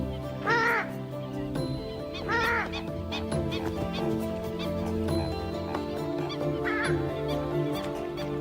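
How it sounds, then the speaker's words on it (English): Purple swamp hen, also known as the sultana bird, giving loud, explosive honking calls in repeated bursts over a dense chorus of other birds, with no talking. "This is the purple swamp hen, also called the sultana bird, famed for its very loud, explosive call."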